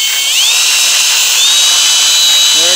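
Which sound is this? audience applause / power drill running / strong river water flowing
power drill running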